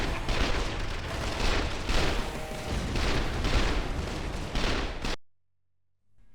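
Mass gunfire in the video game Escape from Paradise City, a dense volley of rapid overlapping shots and booms pulsing steadily for about five seconds before cutting off abruptly to silence.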